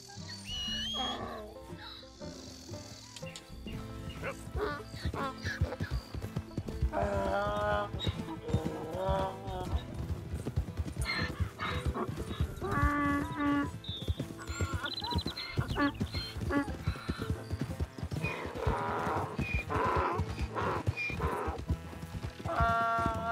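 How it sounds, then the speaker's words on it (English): A donkey's hooves clip-clop steadily at a walking pace in Red Dead Redemption 2, under a continuous layer of background music and ambient game sound. "It's just a donkey, idiot."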